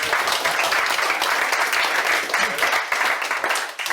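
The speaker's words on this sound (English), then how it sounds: "Another round of applause." Sustained applause from an audience at a beer association's annual general meeting, a dense steady wash of many hands clapping for about four seconds, fading slightly at the end.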